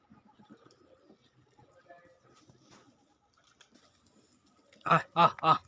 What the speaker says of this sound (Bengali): এখন আমি কবুতরের কিছু ভিডিও দেখাবো দেখেন কবুতরগুলোর কালার কীরকম